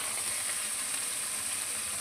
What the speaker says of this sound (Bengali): ছোট ছোট করে কেটে নিয়েছি। তেলে দিয়ে দিয়েছি মাছটা।